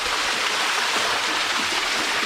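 Waterfall pouring down over a cave, a steady, dense rushing wash of falling water heard close and continuous with no voices.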